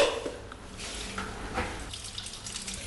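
Water runs from a kitchen tap for washing dishes, a steady close splashing stream into a sink at moderate level with light clinks, no talking.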